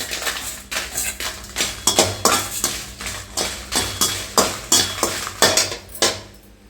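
Chana dal, urad dal and dried red chillies roast in a pan, stirred with rhythmic scraping strokes of a metal spoon, roughly two per second, over a light dry rustle.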